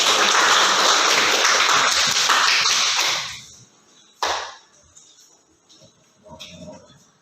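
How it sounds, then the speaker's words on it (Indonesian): Applause from students in a classroom, a dense burst of clapping for about three seconds that stops abruptly, followed by a sharp single knock and scattered quieter sounds. "Berikan aplaus dulu."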